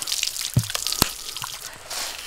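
Cold water splashes and drips in short irregular bursts as an elderly person cools off on a hot afternoon, close and moderately loud, with a few sharper splashes standing out.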